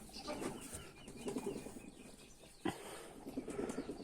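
Pigeons in a close loft make brief flurries of wing flapping, soft rustling beats with a sharper clap partway through, against faint bird sounds and room noise.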